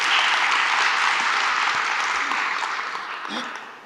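An audience applauds steadily for a few seconds at a talk, a dense wash of clapping that slowly thins and fades toward the end.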